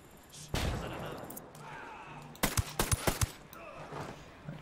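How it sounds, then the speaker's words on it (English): A flash bang grenade and gunfire in the video game Ghost Recon Wildlands: one sharp blast, then a quick burst of several close shots, with quieter ambient noise in between. "Throwing a flash bang."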